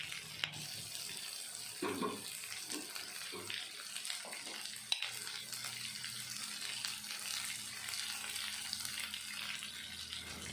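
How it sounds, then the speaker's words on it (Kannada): Capsicum is stirred and fried in oil for vangi bath, a soft continuous sizzle with occasional scraping stirs and a sharp clack, fairly quiet throughout. "ಕ್ಯಾಪ್ಸಿಕಮ್ ಹಾಕಿದ್ಮೇಲೆ ತಿರುಗಿಸ್ಕೊಂಡು ಎಣ್ಣೆಲಿ ಚೆನ್ನಾಗಿ ಫ್ರೈ ಮಾಡ್ಕೊಬೇಕಾಗುತ್ತೆ"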